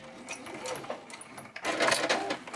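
A sewing machine stitches a seam on a fabric bin made from fat quarters, with short bursts of rapid mechanical whirring close by. The bursts build louder toward the end.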